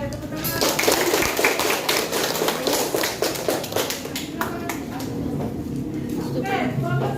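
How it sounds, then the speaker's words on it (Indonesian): A classroom of students in an Indonesian civics lesson applauds a group presentation with dense, lively clapping that carries on steadily throughout, with voices talking underneath. "tepuk tangan"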